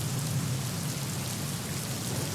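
Heavy rain pours and leaks through the roof of the underground Worli metro station, a steady dense wash of water noise with no break and no voices.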